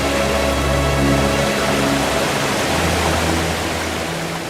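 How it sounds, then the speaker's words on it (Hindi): A waterfall near Rishikesh roars as a steady, loud, broadband rush of falling water, continuous and close with no voices. "तो झरना देख रहे हैं ना?"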